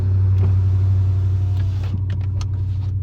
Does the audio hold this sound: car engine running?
yes